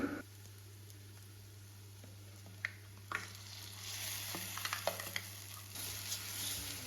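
Onions and ground masala paste frying in a pan for a village-style soppu sambar, a steady close sizzle with occasional scrapes and stirring clicks, growing busier toward the end.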